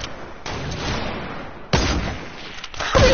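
Sniper rifle shots in Fortnite Season 7, sharp loud cracks with booming tails at about 0.5, 1.7 and 3 seconds, with other game noise in between.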